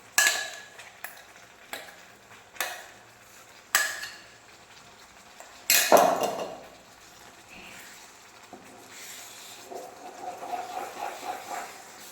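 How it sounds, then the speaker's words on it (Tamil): Amla jam cooks in a pan while a spoon stirs it slowly and patiently, giving scattered scrapes and knocks against the pan followed by soft bubbling and sizzling. "கொஞ்சம் கொஞ்சமாக வந்து பொறுமையாக இப்படி கிண்டி விடுங்க"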